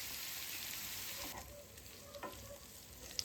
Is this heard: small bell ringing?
no